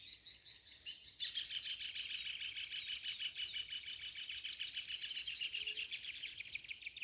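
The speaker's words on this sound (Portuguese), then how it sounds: "Os pássaros cantando pra vocês hoje de manhã." Birds sing in a garden in the morning, a dense, continuous stream of bright chirps and trills from several birds, steady and fairly near, over faint background hiss with no talking.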